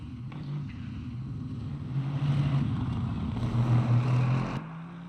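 An Aston Martin race car in a sim racing event at Sebring winds up its engine, a loud close growl that climbs and holds through shifts before cutting off near the end.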